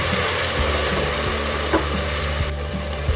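Onions and tomatoes sautéing in a pan for a North Indian white chickpea curry, a constant close sizzle with a few light scraping and stirring knocks throughout, no talk.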